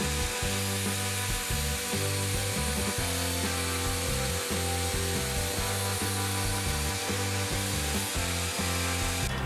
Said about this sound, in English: I'm going to be using my cross-cut sled and the table saw to do that